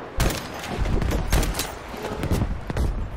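Incoming mortar fire in a combat video game lands in several sharp blasts, with repeated booming impacts and crackling bursts, loud and fairly close, and little talk.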